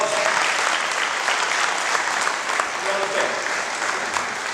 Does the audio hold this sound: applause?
yes